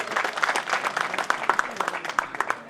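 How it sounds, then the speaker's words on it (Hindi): Audience clapping at a Prajapati community talent award ceremony in Bidasar, a patchy burst of many hands with uneven claps that swell and thin over a few seconds. "जोरदार ताली से स्वागत।"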